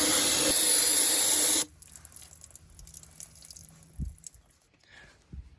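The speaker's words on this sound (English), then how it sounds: "just blast some O'Reilly parts cleaner into it" Loud, steady hiss of O'Reilly parts cleaner sprayed into the front Dana 30 axle of an old Jeep to flush out old gear oil, lasting about a second and a half and then cutting off to quiet knocks.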